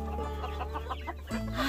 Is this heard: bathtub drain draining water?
no